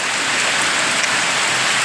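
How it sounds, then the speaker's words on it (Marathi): Steady rain pours outside, a dense, even hiss with no breaks, close and fairly loud throughout. "पाऊस आलो हो, पाऊस"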